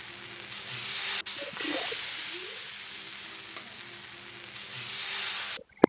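Dosa batter sizzling on a hot griddle, a loud, steady, close hiss that holds evenly throughout, broken by a brief knock near the start and a sharp tap at the very end, with no talk.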